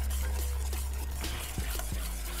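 A spoon stirs a mixture of five eggs with cream-style and whole kernel sweet corn in a bowl, giving soft repeated scraping and a few sharp clinks against the side over a low hum.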